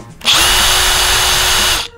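A Bosch GSB 18V brushless cordless drill spins up in plain drill mode, running loud and steady for about a second and a half as a close, even whine before stopping.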